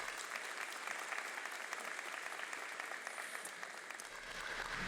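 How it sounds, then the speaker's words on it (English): Applause for scholarship sponsors at a high school senior honor awards ceremony, a steady round of clapping from the audience, fairly faint and sustained for several seconds. "a big round of applause to our sponsors"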